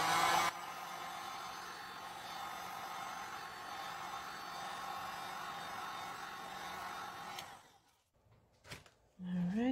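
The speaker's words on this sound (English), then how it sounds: "Let me just heat it up a little bit and loosen it up a bit." A heat gun blows steadily at close range while warming resin on canvas, a constant broadband hiss that cuts off near the end, followed by brief quiet and faint handling sounds.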